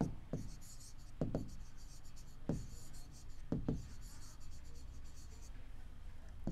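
Handwriting on paper during a maths lesson: a few close scratchy strokes with short taps, spread across the stretch over a low steady background hum.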